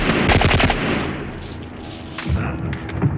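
Gunshot sound effects in a low-budget film: a rapid burst of loud, close shots opens the clip, then a couple of heavier thuds follow after a short lull.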